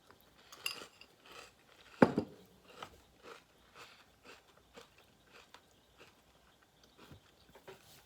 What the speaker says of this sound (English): Make sure you have some milk in your spoon and some cereal. All right, take the first bite.